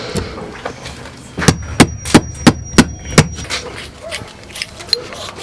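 A series of six sharp hammer blows in quick, even succession, loud and close, with faint background noise before and after.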